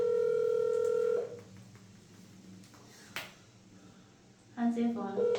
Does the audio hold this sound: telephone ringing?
yes